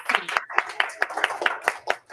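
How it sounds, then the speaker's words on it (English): A small group gives a round of applause for a child after a classroom-style performance, with irregular, fairly close hand claps scattered through a couple of seconds. "So everyone give him a little round of applause,"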